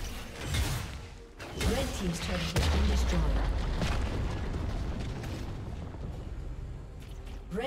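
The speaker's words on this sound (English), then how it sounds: "Red team's turret has been destroyed." A turret being destroyed in League of Legends, a top-lane Mordekaiser versus Darius match, sets off a heavy rumbling explosion with grinding mechanical debris that fades out over several seconds, while a game announcer's voice speaks over it.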